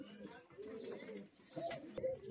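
Giribaj pigeons coo softly and briefly at a pigeon sale, low murmuring calls mixed with people talking nearby.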